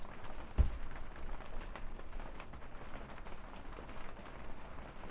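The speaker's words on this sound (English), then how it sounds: "listen to that rain" Steady rain patters on a surface, a soft continuous wash with one brief thump near the start, no voices.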